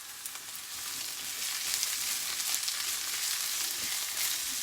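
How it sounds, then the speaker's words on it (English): About ten curry leaves fry with onion in hot oil for hariyali chicken, giving a steady, close sizzling hiss that stays even throughout with no talking. "today you want to fry up your curry leaves as well with the onion"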